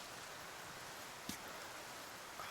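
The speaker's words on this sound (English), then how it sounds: "it Sounds like it's still raining, but I don't see any rain" Soft, steady rain falls near a rock overhang at a climbing crag, a faint even hiss with a couple of small drips or knocks standing out.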